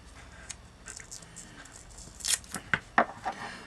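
Masking tape is torn in a few short, sharp ripping bursts, close and fairly quiet, to tape down a brass stencil on paper, with soft rustling between the tears.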